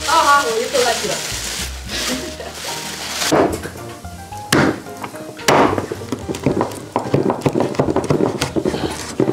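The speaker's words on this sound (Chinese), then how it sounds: "去煎一下笋" Sliced bamboo shoots frying in a home kitchen pan, a steady sizzle with clinks and scrapes of cookware and utensils, close by, with people talking over it.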